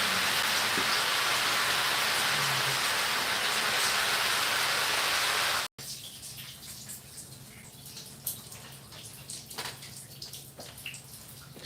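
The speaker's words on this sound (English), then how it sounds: "Had to turn off the shower to hear myself speak." Running shower water hisses as a loud, steady broadband wash, then cuts off abruptly midway, leaving a quieter room with faint sounds.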